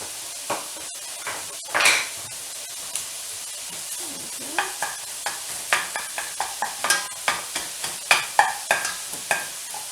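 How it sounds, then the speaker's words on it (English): A spoon stirs a sausage and rice mixture in a pan over a gentle sizzle, with a steady series of close scraping knocks that grow more regular and rhythmic toward the end. "Let me stir this."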